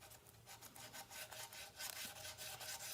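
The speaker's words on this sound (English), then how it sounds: "I just use the sanding block almost like it just trims it" A sanding block rasps back and forth along the edge of a mould piece in quick, rhythmic strokes, a soft scratchy rubbing repeated steadily and close up, with no talking.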